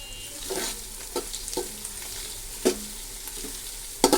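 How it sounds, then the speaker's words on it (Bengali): Onions fry in oil with cinnamon and white cardamom for a chicken biryani, a steady close sizzle broken by several sharp stirring scrapes and clinks, with no talk. "পেঁয়াজ তেল দিয়ে ভাজতেছি।"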